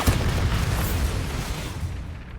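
In Hogwarts Legacy, a Bombarda spell sets off a loud, close explosion: a heavy boom that rolls into a sustained rumbling burst and fades slightly over a couple of seconds, with no talking.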